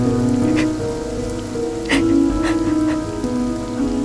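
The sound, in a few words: rain falling, scene from a Malayalam movie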